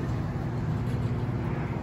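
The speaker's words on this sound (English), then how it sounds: "So that's the air-cooled condenser." A large air-cooled refrigeration condenser with its fans running gives off a steady, dense, low-pitched rushing hum at close range, with no break in the sound.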